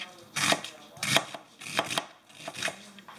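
A knife chops an onion on a board in steady, evenly spaced strokes, close by, with no voices.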